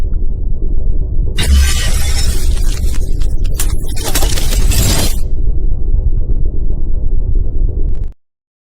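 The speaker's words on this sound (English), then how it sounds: "nothing like broken glass for Christmas" Glass shatters loudly in a bright crashing burst that lasts a few seconds and then trails off, set over a steady low background hum that cuts out at the end.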